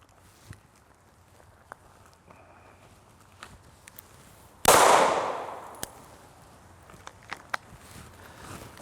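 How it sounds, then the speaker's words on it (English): A single gunshot fired at a target during a 3D shooting demonstration, one sharp loud crack with a decaying echo tail, followed by faint clicks and handling noises in otherwise quiet surroundings. "let me fire one shot with 0 target perspective right here high up in that cardiac triangle"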